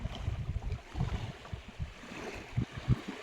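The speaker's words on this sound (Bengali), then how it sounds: "আমরা কিন্তু নদীর চর বেয়ে নৌকা নিয়ে আস্তে আস্তে সামনের দিকে এগিয়ে যাচ্ছি।" A large wooden fishing boat edges slowly along a river shoal on the Garal river during the morning tide, giving a low, steady rumble of water and hull with soft splashing and gentle wind, moderately quiet, no talking.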